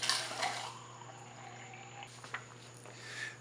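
Warm water runs and splashes as it is poured and measured into a container for a flubber lab, a soft continuous trickle over a low hum, with a few light clinks.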